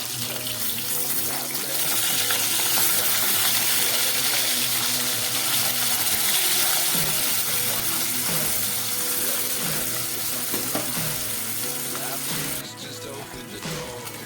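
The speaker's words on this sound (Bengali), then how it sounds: "গ্যাসটা কমিয়ে মাছগুলোকে এক পিঠ খুব ভালো করে ভেজে নিলাম।" Katla fish pieces frying in hot oil in a pan for a Bengali fish curry give off a loud, steady, continuous sizzle with occasional faint clinks, close by and without talk.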